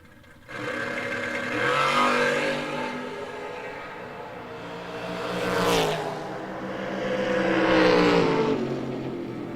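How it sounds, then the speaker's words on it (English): Drag racing cars doing burnouts side by side on the strip, their engines roaring loud and close, surging and fading in several rising revs. "Burnouts are complete."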